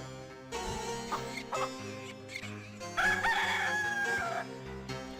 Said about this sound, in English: What on earth are you doing to that rooster?